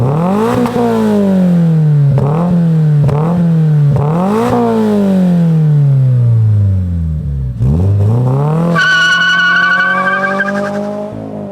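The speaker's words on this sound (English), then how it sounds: "Let's fire up this freaking GR86 with that catback exhaust and hear what it sounds like" A 2022 Toyota GR86 with an aftermarket catback exhaust fires up and revs repeatedly, loud and close, with rising and falling sweeps before settling into a higher, raspy hold near the end.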